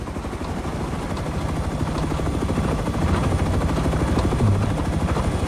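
An attack helicopter in the video game Rust flies close overhead, its rotor chopping in a steady, loud, continuous drone throughout, with no talk over it.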